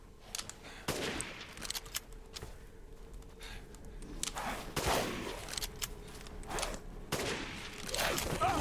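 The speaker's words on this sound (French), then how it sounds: "je tape au sniper de si près" Sniper rifle shots fired at close range in the survival horror game Resident Evil Village, several sharp loud cracks spaced a few seconds apart over a steady background of game ambience.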